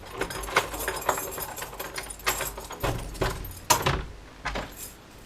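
A bunch of keys jangles close up in Uganda, repeated metallic clinks and rattles in irregular bursts, with a sharper shake near the end.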